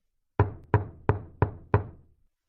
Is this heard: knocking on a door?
yes